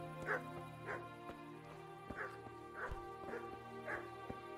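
A dog in the medieval video game Kingdom Come: Deliverance gives a series of short yips and whimpering barks, about six spaced cries over a low steady hum, fairly faint.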